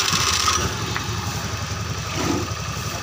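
A Honda Beat fuel-injected motor scooter engine, rebuilt and being tuned, runs at a steady, even idle close by. It sounds loud and continuous for the whole span, with no one speaking over it.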